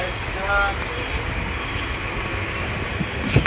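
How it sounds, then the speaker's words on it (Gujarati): Steady low rumble of a moving train from inside a carriage on the Bhavnagar to Botad line, with faint rattling and brief clanks throughout. "જો મિત્રો હવે ટ્રેન ઉપડી ગઈ છે"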